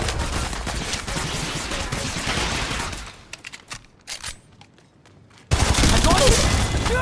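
Sustained close automatic gunfire in Apex Legends Mobile, a dense loud burst that drops to scattered shots and clicks, then resumes loudly.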